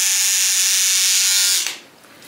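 Steady high electric toothbrush buzz, loud and close, running for about a second and a half before cutting off abruptly, leaving a faint hum.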